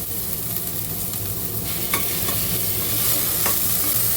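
Onions frying with a spoonful of ginger garlic paste for a horse gram methi pulao, a loud, steady sizzle with a spoon stirring and scraping the pan and a few sharp clicks, with no talking.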